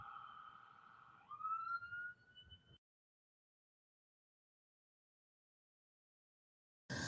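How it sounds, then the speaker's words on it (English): A siren wails with a rising pitch sweep for a few seconds, then cuts off into silence before another burst at the end. "it's like the sirens are going"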